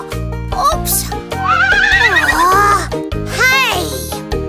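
A horse neighs twice in a children's farm song, loud whinnies with rising and falling pitch that stand out over a bouncy instrumental backing.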